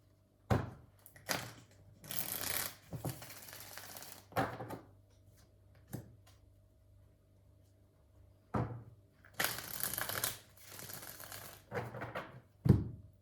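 Tarot cards are shuffled close by in repeated bursts, with riffling flutters and sharp taps and knocks as the deck is squared, separated by quiet pauses; no talking.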